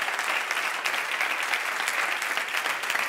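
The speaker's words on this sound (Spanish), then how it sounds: "Por favor, que le demos un fuerte aplauso a todo el personal técnico que está por ahí." An audience at a talk on online reputation claps steadily for the technical staff, a dense, even burst of applause that holds at a constant level throughout.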